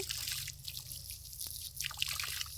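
Water soaking the soil of potted lemon trees, a faint close trickle with soft scattered drips, continuous and without voices.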